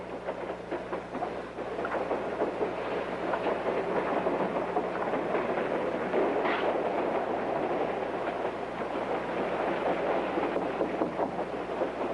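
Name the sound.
train running on rails, clickety-clack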